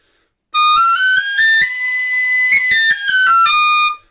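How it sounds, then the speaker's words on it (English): Recorder Workshop high D tin whistle played with its head pushed fully in, clear bright tone stepping through a rising run of notes with short articulated breaks, close and loud, no voices. "now I've pushed the whistle head all the way in"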